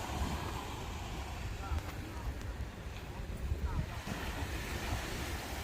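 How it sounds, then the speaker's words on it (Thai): Gentle sea waves wash steadily onto Chao Samran beach in Phetchaburi on a calm day, a continuous soft surf roar mixed with wind buffeting the microphone. "ไม่มีคลื่นแรงนะคะ คลื่นไม่แรง เงียบสงบ"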